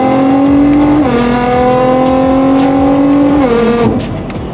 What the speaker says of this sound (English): Nothing beats the sound of a GTR.